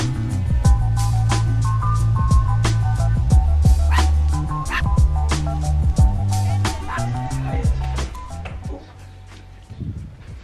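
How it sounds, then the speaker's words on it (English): An excited dog yips and whimpers in short, high bursts scattered throughout, mixed with people talking and a steady background hum. "And the doggy's excited to see us."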